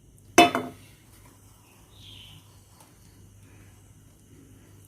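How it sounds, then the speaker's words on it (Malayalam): A single loud metallic clank rings out as a pan is set down on a stove for roasting nuts, followed by a quiet kitchen hum. "ഇനി നട്ട്സൊക്കെ വറുക്കാൻ വേണ്ടിയിട്ട് ഒരു പാൻ ഞാൻ അടുപ്പത്തോട്ട് വെച്ചു."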